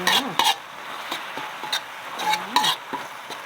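Tap tao mushrooms stir-fried with holy basil in a pan: a spatula scrapes and tosses in several quick strokes over a steady close sizzle, with light metallic clinks.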